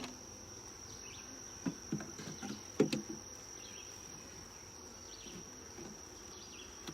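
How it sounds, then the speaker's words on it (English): Bees hum and buzz as they fly back toward a hive entrance in a yard with a double screen board, a steady faint drone with a few louder close passes near the middle. "The returning bees for the yellow nook are coming back to the yellow nook"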